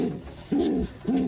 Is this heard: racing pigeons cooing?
yes